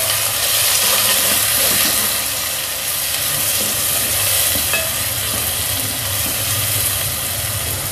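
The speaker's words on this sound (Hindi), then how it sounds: "जी तो प्याज अच्छे से फ्राई हो गया" Two medium chopped onions fry in hot oil with crackled cumin seeds for a pea and potato curry, giving a steady, close sizzle with faint stirring throughout and no talking.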